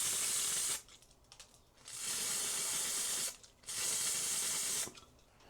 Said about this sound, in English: So give it a gentle shake, and then give it another spray.